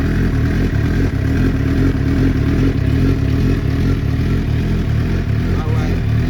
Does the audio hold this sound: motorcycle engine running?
yes